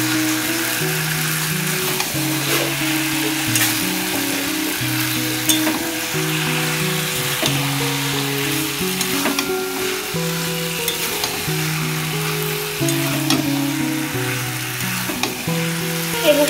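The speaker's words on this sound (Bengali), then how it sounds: "চিকেনগুলো ভালোভাবে কষিয়ে নেব।" Chicken pieces frying and being stirred in a pan for Bengali chicken kasha, with a steady close sizzle and scraping stir sounds running throughout, no talking.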